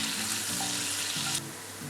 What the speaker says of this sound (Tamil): கடுகு வந்து நல்லா பொரியணும்.